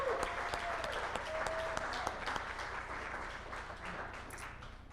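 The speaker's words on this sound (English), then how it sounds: "we want to give her a round of applause and thank her" Audience at a Brain Injury Association of North Carolina 40th anniversary event applauding an award honoree, sustained clapping from a roomful of people that gradually fades.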